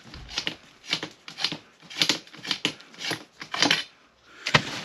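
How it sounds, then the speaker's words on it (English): Rhythmic scraping and clicking as a reaming tool twists against the cut end of electrical conduit pipe in a crawl space, about ten sharp, close strokes in quick succession with no talking. "Ream the other side because I cut it to get it in here."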